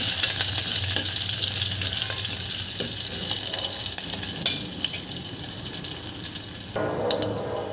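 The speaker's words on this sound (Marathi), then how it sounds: "मिरच्या घालून घ्यायच्या आहेत आपल्या मिरच्याला छान दोन मिनटं परतून घ्यायचं आहे" Green chillies sautéing in a pan for a fasting-day barnyard millet dish, a steady close sizzle with occasional stirring clinks and a rush of water-like hiss toward the end, no voices.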